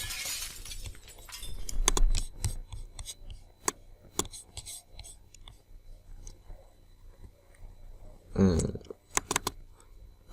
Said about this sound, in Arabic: صوت تكسير الزجاج